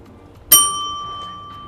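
A single bright bell rings once during a quiz game. The ding strikes sharply and rings out clearly, then decays slowly over more than a second in a quiet room.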